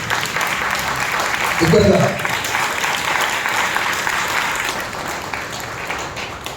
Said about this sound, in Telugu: దేవుడు మనను మన సంఘమును 6 మాసాలు కాపాడినందుకు ప్రభువును మిక్కిలిగా చప్పట్ల ద్వారా స్తుతిస్తాం.